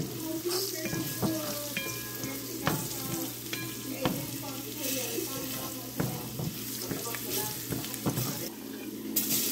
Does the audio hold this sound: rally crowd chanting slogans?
no